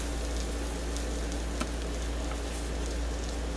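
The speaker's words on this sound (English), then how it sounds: "You hear that sizzle?" Spicy chicken wings fry in hot oil with a constant crackling sizzle, dotted with sharper pops and ticks, over a low steady hum.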